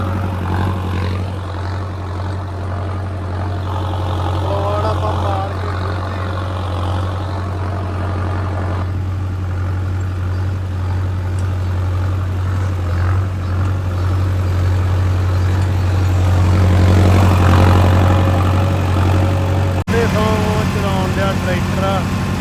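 Generator engine running while a farm field is being prepared: a constant low droning hum, steady and fairly close, continuing throughout, with people talking over it at times.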